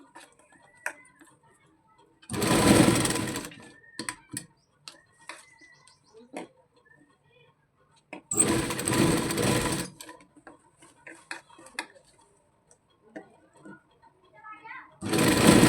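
A sewing machine stitches a sleeve onto a baby frock in three short, loud bursts of rapid mechanical whirring, separated by quiet gaps with handling clicks and someone speaking.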